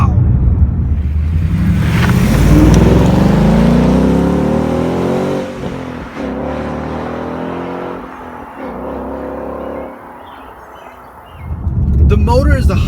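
A 2016 Ford Mustang GT's Coyote V8 engine revs hard and climbs steadily in pitch, roaring loudly up to a high peak near its 7,000 RPM redline, then drops off before surging again.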